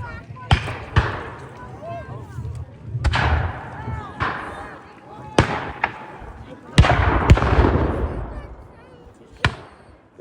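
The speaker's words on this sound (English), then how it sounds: "the cannons that are firing are called grasshoppers" Light 3-pounder 'grasshopper' field guns fire at a Mount Vernon Revolutionary War reenactment. Loud, sharp booms ring out one after another at irregular intervals, each trailing into a rumbling echo, with some talk in between.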